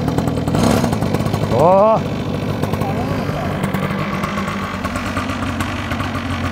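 Cheap mini motorcycle engine pull-started outdoors, a brief rising rev that drops into a steady, rough idle, with short exclamations from a person.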